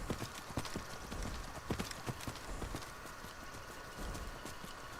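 Steady clip-clop of horse hooves in Skyrim at a trotting rhythm, fairly close, with light rustling and faint background noise.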